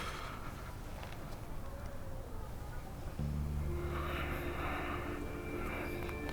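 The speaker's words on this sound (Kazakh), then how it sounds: "Мен самолетқа отырып атам." Airplane cabin engine noise: a quiet, steady broadband drone fills the whole stretch, with a low, even hum joining partway through.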